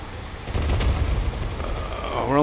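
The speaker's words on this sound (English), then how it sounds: "Fucking rockets. Through the wall." Rockets in Warzone blast through a wall, producing a rumbling run of explosions and debris that swells loud and low, ending with a rising whine.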